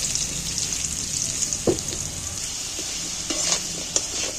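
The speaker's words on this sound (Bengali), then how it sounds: "আলুগুলো দেখো ভাজা হয়েই এসছে" Potatoes frying in hot oil with a sprinkle of turmeric give a steady close sizzle, with a few brief stirring clatters and scrapes breaking through.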